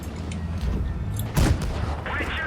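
Tank cannon shots failing to penetrate armor in World of Tanks Blitz, with the AMX 30 1er prototype in battle, a heavy booming impact standing out among muffled gunfire and metallic clanks, under a talking voice.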